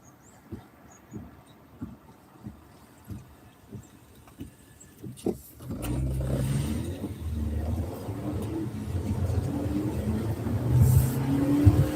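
A car engine picks up and accelerates after a stretch of rhythmic soft thumps, settling into a steady low rumbling drone that grows slightly louder, heard from inside the vehicle.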